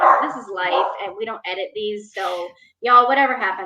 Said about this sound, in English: I apologize if you hear the barking in the background.